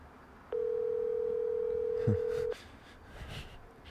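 A phone call rings out on the line: one steady, loud ringback tone lasts about two seconds and then stops. Faint background noise follows, and a brief low bump sits under the tone.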